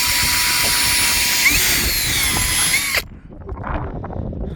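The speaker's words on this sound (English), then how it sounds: "just using drill and just drilling out some of the holes" A loud, high-pitched power drill whines steadily for about three seconds, drilling out holes on a sailboat, then stops abruptly, leaving softer rustling and handling noise.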